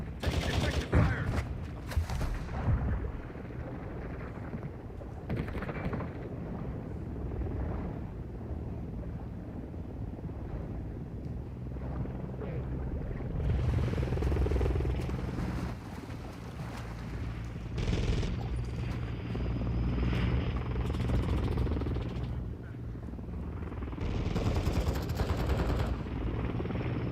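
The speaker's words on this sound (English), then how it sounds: "Hostile Overwatch helo in the area." Helicopter rotor chopping through a Call of Duty Modern Warfare II multiplayer match, a steady mid-level drone running throughout with bursts of gunfire and explosions layered over it.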